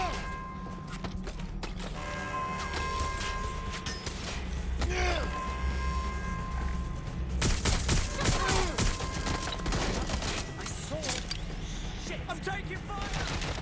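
Gunfire in the video game Watch Dogs: Legion, a few scattered shots and mechanical clatter under constant game music and a talking voice, moderately loud throughout.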